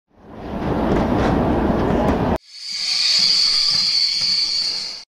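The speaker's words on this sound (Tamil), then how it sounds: "ட்ரெயின் விழுப்புரத்துல நின்னுச்சு." A train stopping at Villupuram station, used as a sound effect in a Tamil audio drama: a rumbling carriage run that breaks off sharply into a long, bright hiss of released air, both close and fairly loud.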